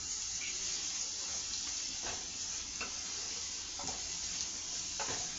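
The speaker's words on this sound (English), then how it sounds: "Now I'm going to turn this fryer down." Food frying in a kitchen fryer gives a steady dense sizzle throughout, with faint occasional clicks and bubbling pops over the hiss.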